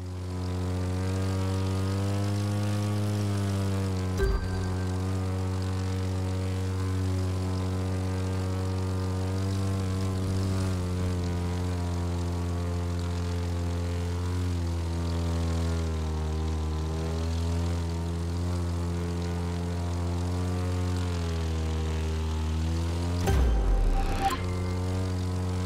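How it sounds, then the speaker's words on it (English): A propeller plane's engine drones steadily and loudly through a roll in The Crew 2 racing game, with its pitch drifting slightly and brief interruptions near the start and end. "Now try a roll. To roll, level out your flight, then pick left or right."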